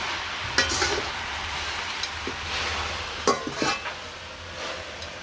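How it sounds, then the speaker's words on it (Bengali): Leafy greens fry in a pan in a village kitchen, sizzling steadily while a spatula stirs them with a few sharp scrapes and knocks against the metal, close and clear. "যেন শাকগুলা ভেজে নিই।"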